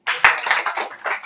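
A group of people clapping hands together at a satsang gathering in a home, brief dense applause close by with one sharp slap standing out.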